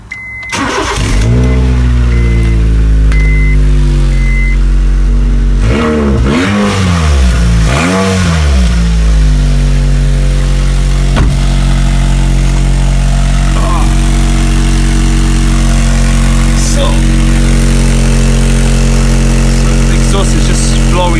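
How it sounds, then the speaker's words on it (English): A 2004 Honda Jazz engine starts and runs loudly up close with a broken, rusted exhaust, giving a raw, blowing roar that swells through a few revs before settling into a steady rough idle. "turn the engine on and you see what I mean."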